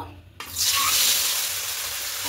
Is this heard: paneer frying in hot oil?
yes